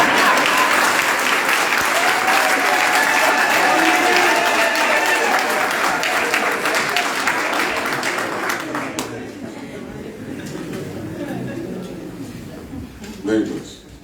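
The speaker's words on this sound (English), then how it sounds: "Now you can clap." Audience at a presidential address to Zambians in London bursts into loud, sustained applause with cheering voices, gradually thinning out in the second half before a brief final burst.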